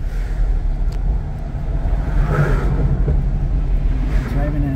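A car drives through Sturgeon Bay, Wisconsin, its steady road rumble and tire noise running continuously beneath the chatter of people talking inside.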